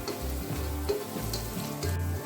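Peanuts frying in hot oil, being deep-fried as spicy roasted groundnuts with curry leaves, give a steady dense sizzle with occasional stirring scrapes, close and continuous with no talking.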